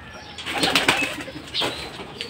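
Racing pigeons are let out of the loft, with soft cooing and rustling, flapping wings in a couple of close bursts, fairly quiet overall.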